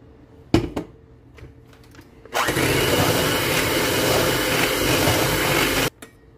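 Blender whirring loudly and steadily for about three and a half seconds while warm milk is drizzled into eggs for cheddar popover batter, preceded by a few knocks and clatters, then stopping abruptly.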